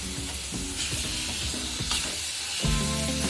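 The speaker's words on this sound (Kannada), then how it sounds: "ಅದನ್ನು ಕೂಡ ತುಪ್ಪದಲ್ಲಿ ಹುರಿಬೇಕು ಆ್ಯಪಲನ್ನು" Apple pieces fry in hot ghee with a constant loud sizzling hiss, while a utensil stirs and scrapes through the pan in quick irregular strokes.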